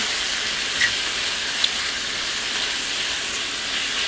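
About 1.5 pounds of shrimp hitting a hot pan after garlic, producing a loud, dense, continuous sizzling hiss that holds steady throughout with no talking.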